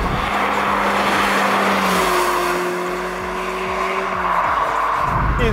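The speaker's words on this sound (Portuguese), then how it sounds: "Ouve-se melhor o escape lá atrás." Exhaust and engine of a Mazda MX-5 while driving, a steady droning note that shifts pitch as the car accelerates, with strong road and wind rush around it.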